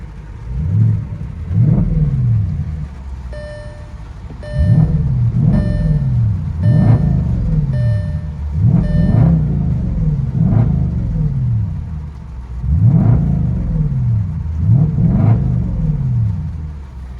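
A deep, rumbling straight-piped 4.2L V8 of a 2004 Audi S4 revs repeatedly in loud bursts, its throaty exhaust rising and falling between throttle blips, heard up close.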